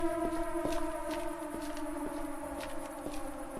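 A wailing siren in the video game STALKER drones steadily in the background while sharp, regular thuds like footsteps sound over it.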